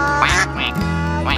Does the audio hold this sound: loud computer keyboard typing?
no